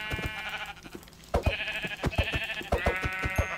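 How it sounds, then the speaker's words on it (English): Sheep bleating in Minecraft, several wavering bleats in succession mixed with footsteps and block thuds, clear and close with no talking. "More sheep. And the same color too, so that means I can actually make a bed."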